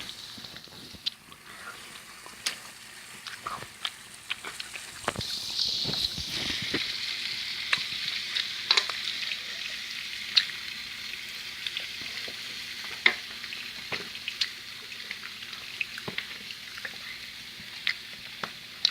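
Continuous sizzle of pork belly on a grill, fat popping and crackling in irregular bursts over a dense frying hiss.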